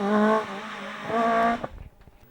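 A Peugeot 306 Maxi rally car on a 2009 Jersey rally stage, its engine note rising in two loud bursts as it accelerates, then cutting away to fainter rumble and gravel noise.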